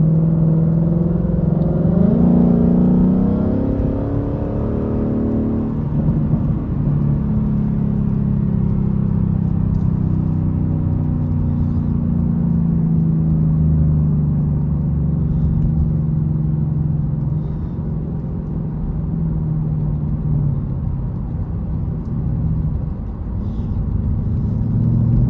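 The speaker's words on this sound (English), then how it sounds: "The downshifts are like a bit rougher than I thought they would be." A Ford Mustang GT engine rumbles steadily from inside the car while driving, with a brief rise in revs near the start and then a low, even drone as it slows and downshifts.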